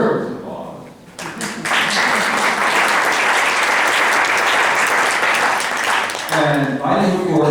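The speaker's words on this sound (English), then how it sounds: "Susan Greenbaum, who deserves applause." A large audience bursts into sustained applause, steady and loud for several seconds, with a voice rising near the end.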